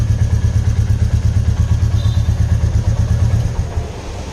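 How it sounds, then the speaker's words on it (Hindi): A warmed-up 2023 Royal Enfield Classic 350 motorcycle engine running close by, a loud, steady low thumping throb that eases off slightly near the end, with no talk over it. "मेरा बाइक ऑलरेडी गर्म है इसीलिए मैं रेव मार रहा हूँ"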